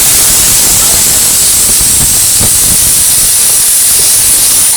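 Yogurt poured into hot masala for Palakkad Rawther biryani, giving a loud, steady broadband sizzle and hiss that holds evenly throughout without any talk.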